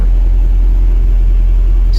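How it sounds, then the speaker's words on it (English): A Honda Civic EF engine idles at around 1000 RPM with the revs slowly dropping, a steady close low rumble that runs loud and unbroken, with no talking. "So it's idling at about 1000 RPM now, dropping as you can hear."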